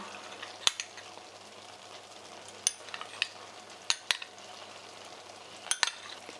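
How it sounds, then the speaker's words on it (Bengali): Paneer pieces drop into a pan of cashews and raisins frying in ghee. A faint, steady sizzle runs beneath a handful of sharp, scattered clicks and taps. "এরপর দিয়ে দিচ্ছি পনিরের টুকরোগুলো"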